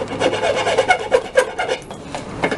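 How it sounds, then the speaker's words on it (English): A wood rasp files the rough handsaw-cut end of a pallet board in quick, loud, close back-and-forth scraping strokes, heard alone. "a wood rasp would definitely knock it off"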